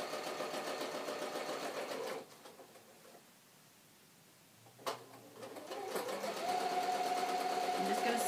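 A sewing machine stitches a fabric face mask with a rapid mechanical whir. It runs, pauses through a quiet stretch with a single knock, then starts up again and continues steadily.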